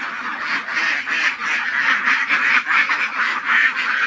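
Ducks on a farm being fed snails, calling loudly and continuously in a dense, overlapping chorus of nasal quacks close by.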